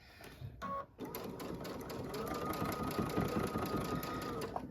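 A sewing machine stitches in the ditch along the seams of a finished quilted snow globe wall hanging, a steady close, fast mechanical whir running continuously after a brief pause near the start, with no talking.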